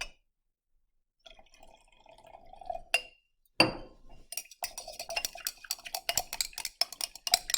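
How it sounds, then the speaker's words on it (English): Stirring sodium hydrogen sulfite solution in a glass beaker gives quiet liquid swishing, then a sharp glassy clink and a run of rapid close clinks and taps against the glass. "And I stir that up."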